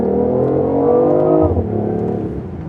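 A BMW i8 hybrid sports car accelerates hard, its engine note climbing steadily in pitch and then dropping sharply as the gear shifts, loud and close with no talking.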